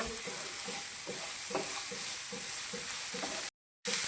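Onions and tomatoes fry in a pan for a cream-based curry, giving a steady close sizzle with scattered stirring clicks and scrapes, broken by a short dropout near the end.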